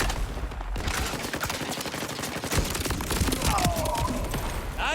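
Rapid gunfire from a Borderlands 4 video game battle, dense bursts of shots rattling continuously and loudly through the whole stretch, with game effects mixed in.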